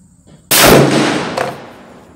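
A rifle shot at a target range, Christensen Mesa or TC Compass rifle with Vortex scope: one loud, sharp near crack followed by a long decaying echo, with a fainter second report trailing about a second later.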